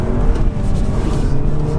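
A stock 2-litre turbocharged rear-wheel-drive BMW 125i drives with a steady, loud engine drone and road rumble, held constant throughout without a clear pass-by.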